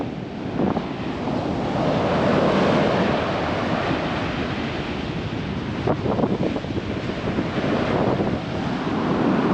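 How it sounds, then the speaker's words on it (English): Rough Atlantic Ocean surf on a windy day after a storm, continuous crashing and washing waves with heavy wind buffeting the microphone, loud and steady with no voices. "that's the Atlantic on a rough day"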